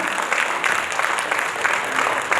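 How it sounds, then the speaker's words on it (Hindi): An audience at a cooperative-sector event in India claps steadily in a sustained round of applause, fairly close, with bursts of louder clapping and a faint murmur from the crowd. "जलपान के बाद में तो तालियां जोर से बजनी चाहिए ना।"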